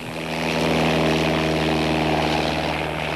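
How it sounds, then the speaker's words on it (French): A four-seat Cessna propeller airplane drones steadily in flight over the Mascouche area, a loud continuous engine hum with a throbbing propeller beat heard from inside the cabin. "Durant 1 heure, l'avion survole la région de Mascouche, du haut des airs"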